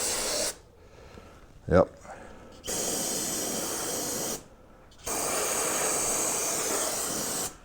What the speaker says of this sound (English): I'm going to hit the frame with brake cleaner